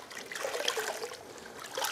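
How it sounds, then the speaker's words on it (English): Water rinsing car wheels and tires: a soft, steady trickling spray, faint and close, with no talk. "So I rinse it."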